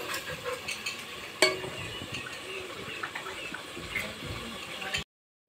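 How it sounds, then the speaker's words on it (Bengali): A masala paste fries in a pan and is stirred while haleem is being prepared, giving a low sizzle with scraping stirs and one sharp clink. The sound cuts to silence at the end. "যেভাবে আমি ভালো করে মশলাটা কষিয়ে নেব।"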